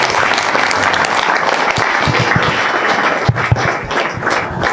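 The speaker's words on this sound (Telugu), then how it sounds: "ట్రూత్ ఫర్ యూత్కి ఒకసారి గట్టిగా చప్పట్లు కొడదాం." A seminar audience applauds a guest speaker being welcomed on stage, steady loud clapping filling the room throughout with a few sharper claps standing out near the end.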